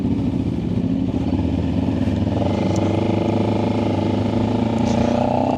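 A motorcycle ridden along a scenic mountain road in Pakistan, its engine droning loud and steady throughout with a low rumble and faint rising revs, plus wind noise.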